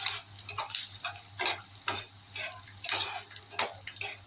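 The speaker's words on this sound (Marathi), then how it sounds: "लसूण जोपर्यंत तेलामध्ये मस्त मोडत नाही तोपर्यंत असं फ्राय करून घ्यायचं तेलामध्ये" Garlic frying in hot oil for a garlic chutney, giving soft irregular crackles and sizzling pops over a quiet low hum, close and fairly faint.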